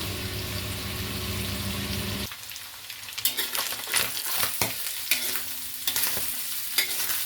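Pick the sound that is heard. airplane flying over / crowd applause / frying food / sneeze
frying food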